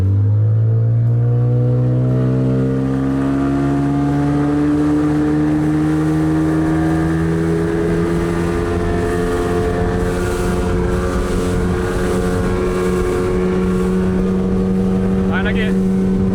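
A motorboat engine drones steadily close by, its pitch rising slowly as it revs, with a brief voice near the end.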